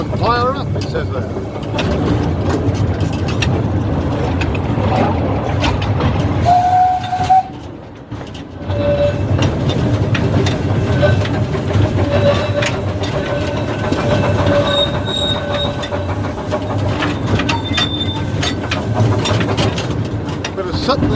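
Steam engine running at the London Museum of Water & Steam, a continuous close chugging rumble with a short whistle and a brief dip in level, talk heard over it.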